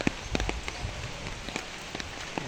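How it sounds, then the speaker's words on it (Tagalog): Rain falls outdoors as a soft, steady patter with scattered close drips and taps, fairly quiet throughout. "Hindi tayo makapag-vlog guys ng maayos kasi umuulan"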